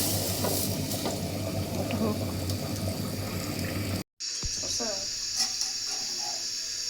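Chitoi pitha batter is poured into a hot pan for a winter rice-cake meal, giving a loud, steady watery hiss that cuts off briefly, then a sharp sizzling rush as the batter hits the metal, with a low hum underneath.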